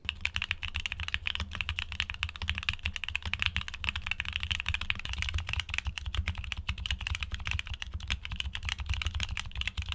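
Rapid, continuous typing on a keyboard fitted with thocky mechanical switches produces dense, deep clacks at a close, even volume throughout.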